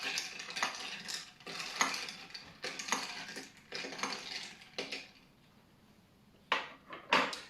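An apple juice and cinnamon cocktail is stirred in a glass, giving repeated rhythmic clinking and scraping bursts up close, a short pause, then a few final clinks.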